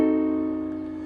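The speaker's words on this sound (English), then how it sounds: "And last we have a diminished seventh chord, which sounds like this." A diminished seventh chord is struck once on piano and rings out alone, decaying slowly over about a second.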